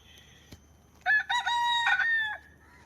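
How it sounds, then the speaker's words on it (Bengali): A rooster gives one loud, clear, drawn-out crow in a park in the morning, preceded by a faint thump in otherwise quiet surroundings. "সকাল সকাল আসলে মোরগের ডাক শুনলে পরে খুবই ভালো লাগে"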